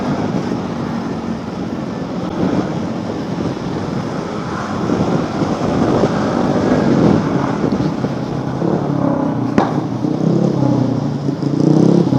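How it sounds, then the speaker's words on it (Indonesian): Steady, loud engine drone of motorcycles and traffic close by on Jalan Kalimalang between Bekasi and Jakarta, swelling slightly as a noisy bike passes, with wind rumble throughout. "kalau motor berisik ini harus kita susul ya teman-teman"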